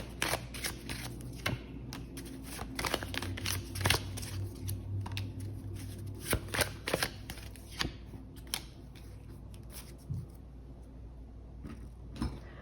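Tarot cards shuffled by hand during a reading, a long run of quick papery riffles and soft card slaps repeating unevenly, fairly faint and close, with a low steady hum beneath.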